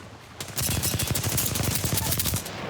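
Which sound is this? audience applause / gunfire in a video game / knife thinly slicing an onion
gunfire in a video game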